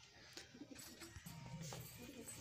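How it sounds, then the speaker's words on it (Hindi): Pigeons on a rooftop make soft, faint cooing and fluttering sounds in a quiet outdoor setting. "चलते ऊपर छत पर कबूतरों को देखते हैं।"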